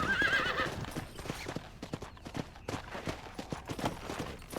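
Horses in the Red Dead Redemption game, with quick clip-clop hoofbeats running steadily and a whinny near the start, close and fairly loud.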